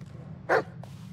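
A dog in the Blair Witch video game gives a single short bark, with a fainter yip just after, over a low steady background hum.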